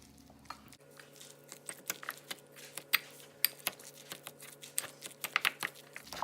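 A spoon mixes salmon croquette mixture with Old Bay seasoning and lemon pepper in a bowl, making a quick irregular series of close, crisp clicks and taps over a low steady hum.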